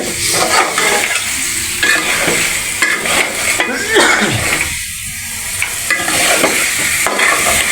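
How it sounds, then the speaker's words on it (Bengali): Broiler chicken frying and being stirred in a pan with taro (maan kochu) for a curry, with steady loud sizzling and repeated scraping stirs, plus occasional clinks of utensils against the pot throughout. "মুরগিটা ভালো মতো কষাই নিতেছে"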